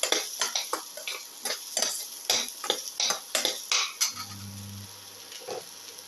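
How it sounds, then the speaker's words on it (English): A spoon repeatedly scrapes and stirs tamarind pieces through a cooking mixture in a pan, giving a steady run of close, sharp clinking strokes with a brief low hum near the end. "Saute the tamarind pieces thoroughly with the rest of the mixture."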